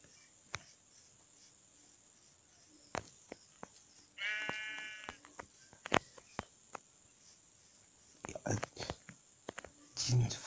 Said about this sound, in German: Schafe!